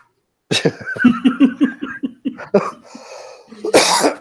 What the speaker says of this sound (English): Sorry for any coughs tonight